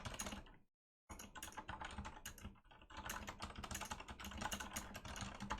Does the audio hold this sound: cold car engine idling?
no